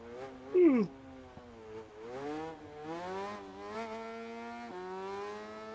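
A 1000cc motorcycle in a MotoGP racing video game revs and accelerates, its engine whine rising and falling in steady sweeps with a brief tire-squeal-like chirp early on, heard alone at moderate level.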